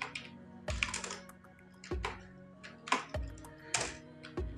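Fingers type on a computer keyboard in short bursts of quick key clicks, separated by brief pauses, close and moderately quiet against a faint steady hum.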